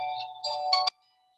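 A cell phone rings with an incoming call during a town Board of Selectmen meeting, a short electronic ringtone melody of a few tones that cuts off abruptly, heard alone.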